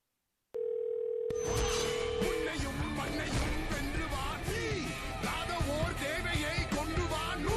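A telephone tone sounds during a call: a steady beep rings out alone for a couple of seconds, then loud, busy voices and background sound from a dubbed action film crowd in over it.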